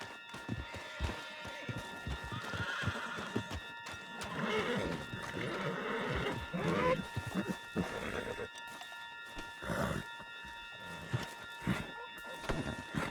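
A horse in Red Dead Redemption 2 neighs and whinnies several times over the clip-clop of hooves and galloping, with game music humming underneath.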